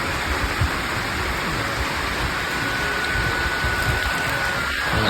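Steady heavy rain in the Konkan countryside, a dense close hiss that is loud and unbroken from start to finish, with no voices.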